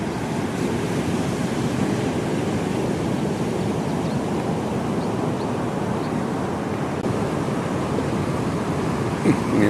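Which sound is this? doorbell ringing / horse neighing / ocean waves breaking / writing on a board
ocean waves breaking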